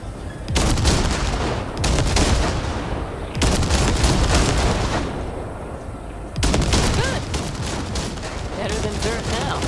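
Heavy sustained gunfire from the Basilisk in Cyberpunk 2077, long loud roaring volleys broken by brief gaps, with a voice speaking beneath the shooting.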